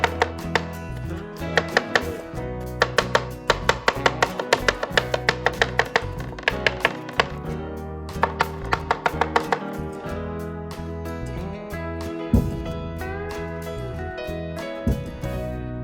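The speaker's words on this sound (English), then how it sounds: "once your pickles are chopped really fine" A knife chops pickles finely on a cutting board in rapid, even bursts of crisp taps, pausing briefly between runs, close and clear with no talk.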